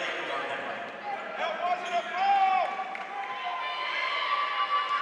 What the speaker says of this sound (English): You can hear some of the crowd not agreeing with the call.